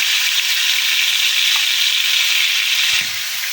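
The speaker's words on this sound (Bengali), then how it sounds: "তেলটা গরম হয়ে গেছে আমি এবার দিয়ে দেবো মাছ" Steady, loud sizzle of fresh pond taki fish frying in hot oil, a continuous bright hiss with a faint clink near the end.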